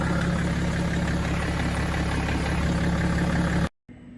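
A digital air compressor for inflating tyres runs with a loud, steady mechanical drone close by, then cuts off abruptly near the end, leaving faint room noise.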